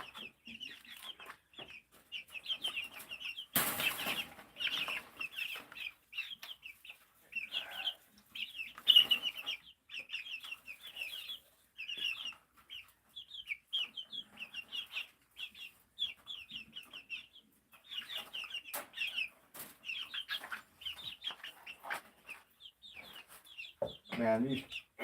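Chickens cluck and chatter continuously at close range, overlapping calls with occasional rustles and scuffling.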